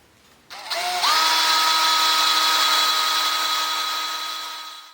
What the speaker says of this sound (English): we're going to be drilling some holes through this clamp